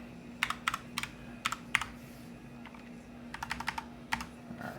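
Quick bursts of typing on a computer keyboard, crisp close key clicks in two short flurries separated by a brief pause, over a faint steady hum.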